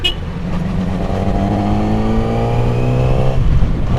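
A big sports motorcycle engine revs under quick throttle twists, a loud, close, rising and falling roar with sharp surges and no talk over it.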